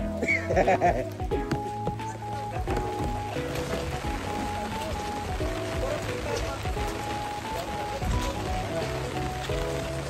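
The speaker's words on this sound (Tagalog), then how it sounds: "Grabing ulan." Heavy rain pattering steadily on surfaces, with voices talking and a bleating-like call near the start.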